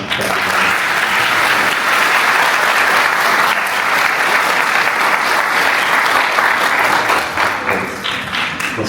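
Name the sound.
audience applause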